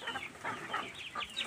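A rooster of the Jeki crossbreed clucks close by, giving a quick run of short, throaty clucks in an uneven rhythm with no voices over it.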